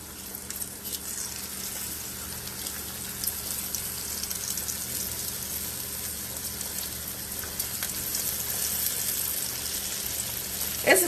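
Pork chops frying in hot oil on a big stovetop burner, a steady close sizzle and crackle running unbroken throughout with no talk.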